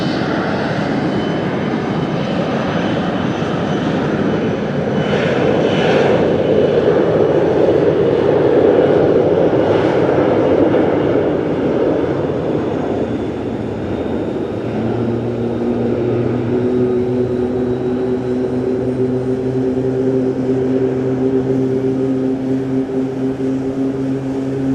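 Aircraft engine starting up at Fukuoka Airport: a broad, steady roar of airport noise gives way midway to rising whining engine tones that settle into sustained, steady hums, heard from a distance with no talk.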